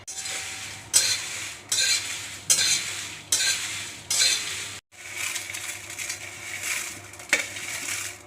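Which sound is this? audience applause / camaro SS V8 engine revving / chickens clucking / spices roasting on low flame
spices roasting on low flame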